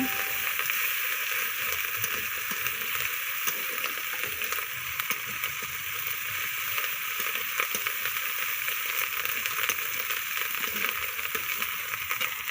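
Onion and garlic paste fries in a pan with a quiet, steady hiss and sizzle, with faint scrapes from occasional stirring. No voices.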